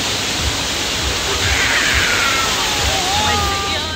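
Bhatta Falls in Mussoorie pours in a steady, loud broadband rush of falling water, continuous and close, with faint voices mixed into the roar.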